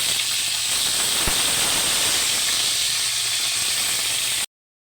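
Ground pork dropped into a hot pan with golden-browned onions sizzles in a steady, loud hiss, with a single soft thump near the start before the sound cuts off abruptly.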